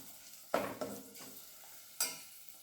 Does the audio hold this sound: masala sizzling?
yes